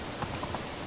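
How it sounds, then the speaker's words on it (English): Gentle summer rain in the medieval world of Medieval Dynasty, a soft continuous hiss of falling drops with faint patters, heard alone. "It's a really nice summer rain."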